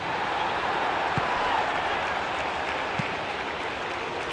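Crowd applause in a football video game during a Master League match, steady broad clapping and cheering that fills the whole stretch at a fairly loud level.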